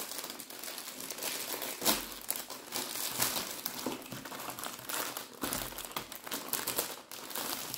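Ringo Stranger Things biscuit packaging being opened by hand, with close, loud plastic crinkling and rustling throughout and a couple of sharper crackling bursts, no voices.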